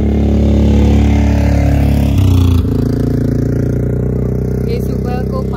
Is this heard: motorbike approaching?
yes